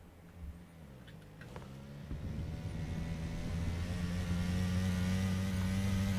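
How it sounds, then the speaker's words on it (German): A car in PlayerUnknown's Battlegrounds approaches, its engine hum rising steadily into a sustained droning tone that grows louder toward the end, with faint clicks near the start. "Hier kommt noch ein Auto."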